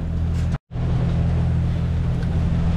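Sailboat motoring under engine after storms at sea, a steady low drone and rumble with broadband wind and water noise, briefly cut out for an instant partway through; no speech.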